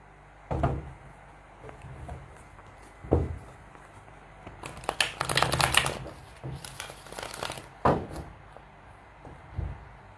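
Tarot cards are shuffled and drawn in a quiet room: scattered soft slaps and snaps of single cards, then a dense riffling burst of shuffling in the middle, followed by a few more separate card flicks.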